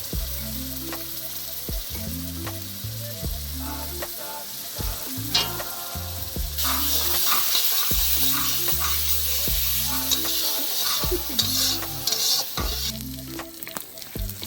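Ginger paste fries in a pan with dried chilies, with a steady sizzle that grows louder midway and repeated scraping, clattering stirs at an uneven rhythm.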